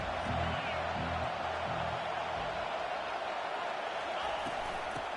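Stadium crowd in a college football video game at Texas A&M, a dense steady roar held at an even level throughout with no single standout cheers.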